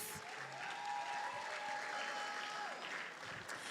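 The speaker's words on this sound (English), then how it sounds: "let us welcome with warm round of applause, Miss Naima Harris." Steady audience applause fills a school graduation ceremony hall, a dense, even wash of many hands clapping that continues throughout without a break.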